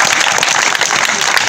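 Audience applause at a Mama TV event, a dense, steady wash of clapping that stays loud and close throughout the short burst.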